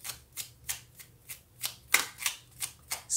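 Tarot cards riffle and slap in a rhythmic series of about ten crisp bursts, close and clear, with no voices over them.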